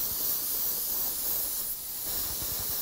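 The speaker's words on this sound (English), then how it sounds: "We're spraying 6061 aluminum micropigment." A spray gun applies 6061 aluminum micropigment paint to a laser blaster prop, a continuous close hiss of spraying that holds steady with only slight dips in intensity, with no talking.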